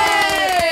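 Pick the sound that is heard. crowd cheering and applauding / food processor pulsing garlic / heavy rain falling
crowd cheering and applauding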